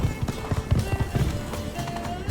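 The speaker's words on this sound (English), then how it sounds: "Run, Roach." A horse gallops in The Witcher 3: Blood and Wine, its hooves pounding in a quick, steady clip-clop rhythm close up and fairly loud, layered with faint game ambience.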